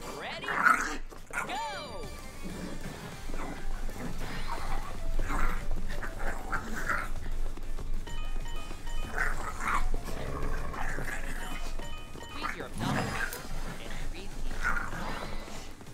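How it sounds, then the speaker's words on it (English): Dog in a living room during a Ring Fit exercise game, barking and growling intermittently at moderate distance, blended with game music and effects while a person talks over it. "their dog's literally under my feet right now"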